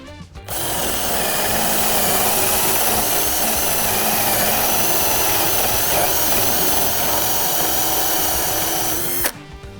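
A Dnipro-M CD-218 cordless drill bores a hole with a 35 mm Forstner bit, one steady loud whirring grind running close up for about nine seconds before stopping, with no talking.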